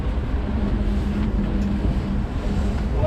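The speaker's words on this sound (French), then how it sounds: "C'est le vent en fait" Steady wind buffets the microphone in a continuous low rumble high above Budapest near the Budapest Eye Ferris wheel, with a faint droning engine-like hum underneath and no talking.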